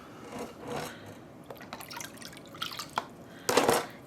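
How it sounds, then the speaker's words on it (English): Liquid yarn dye is poured into shoeboxes, producing soft splashes, drips and pattering bursts that build toward a louder pour near the end, close and fairly quiet. "I'm trying to pour them sort of across"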